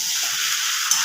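Meat being sautéed in a pan sizzles with a steady, close hiss of frying that runs unbroken and fairly loud throughout the short moment.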